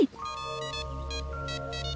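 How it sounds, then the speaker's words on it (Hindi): A phone ringtone plays at steady volume for about two seconds, a repeating electronic melody with harmonic tones that pulse in short bursts, heard alone without talk. "जरा फोन आ रहा है"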